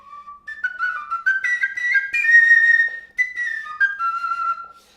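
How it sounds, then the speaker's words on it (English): A fixed whistle flute, the kind used by the voladores in Mexico, plays a clear, close, breathy melody of several sliding and held notes with no voices. "this is, of course, a variety of flute called the fixed whistle flute."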